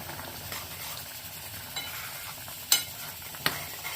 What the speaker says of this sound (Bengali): চামচ নিয়ে এতে একটু ঘি দিয়ে দেবো।